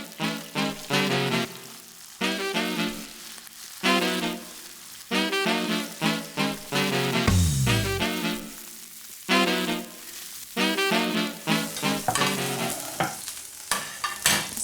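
Red mullet fillets fry skin-side in a hot pan, with a close, loud sizzle that rises and falls in repeated bursts as they are turned, and no talk over it.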